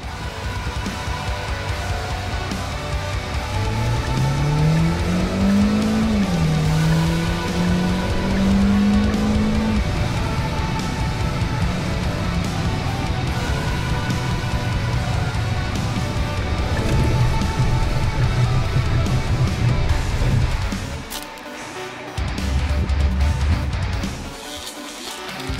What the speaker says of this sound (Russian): как быстро Sonata разгоняется с 0 до 100 км в час